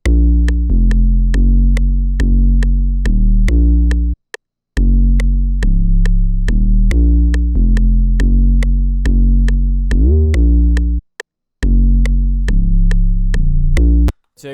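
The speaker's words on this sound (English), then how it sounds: "And then lastly, guys, we have the 808, which is going to sound like this." Loud, deep 808 bass pattern in a trap beat, sustained booming notes shifting pitch along a chord progression over steady ticking hats, with two brief dropouts and no voice.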